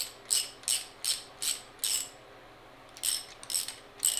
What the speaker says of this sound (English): you're supposed to just use a ratchet if it's safer